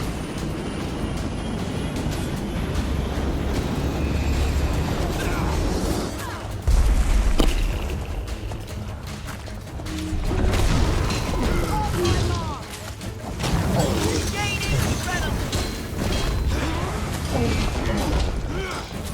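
A giant explosion from the video game Guild Wars 2, a dense, loud rumbling blast with crashing debris and mechanical clatter that stays heavy across the whole stretch, swelling in several surges amid game combat noise.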